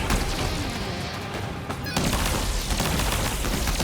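Ranged weapon gunfire in the video game Death Stranding 2, a dense, steady barrage of rapid shots that continues loudly throughout, briefly dipping and then swelling again.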